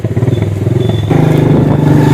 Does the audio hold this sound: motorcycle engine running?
yes